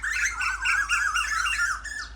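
Asian koels in a Punjab village give harsh, agitated calls, a run of repeated squawking notes close by that overlap almost without pause over a low steady hum.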